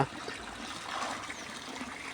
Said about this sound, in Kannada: ಈ ಟಾಕಿಗೆ ಅದಟ್ಟು ನೀರು ಬರುವಂಗೆ ಮಾಡಿದೆನು